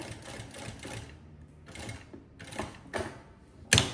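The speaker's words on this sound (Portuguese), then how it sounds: "Vou começar a costura." A domestic sewing machine stitches in several short bursts separated by brief pauses, moderately close, with a sharper mechanical clack near the end and no talking.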